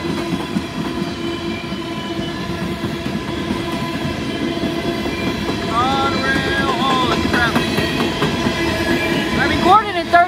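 The Norfolk Southern freight train NS 561, led long hood forward by an ES44AC locomotive, rumbles past loud and close with steady rolling wheel noise and squealing, growing louder toward the end.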